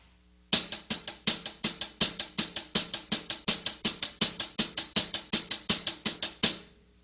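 A hi-hat is played in straight, even 16th notes, alternating right and left hands, for a full bar. The crisp, bright ticks come in a rapid, unbroken stream, close and clear, with no talking.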